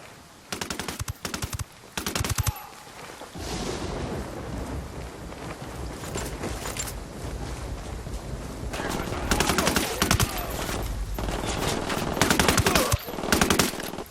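Automatic gunfire erupts during an ambush in the video game Ghost Recon Wildlands, with loud, dense bursts of machine-gun fire and explosive cracks filling the scene almost continuously, rising in intensity toward the end.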